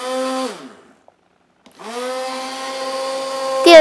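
An electric mixer whirs through homemade liquid soap, its motor humming loudly, cutting out for about a second, then spinning back up to a steady drone, with a brief clatter at the end.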